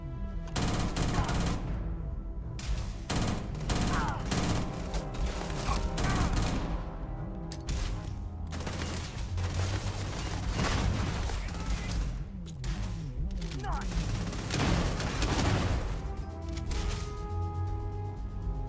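Gunfire in the Starfield video game comes as sustained, dense volleys of rapid automatic shots, loud and near, with short pauses between bursts across the whole stretch.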